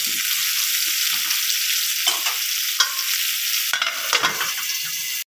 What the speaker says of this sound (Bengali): মাঝারি আছে ঢাকা দিয়ে দিয়ে আলুটাকে ভালো করে ভেজে নেব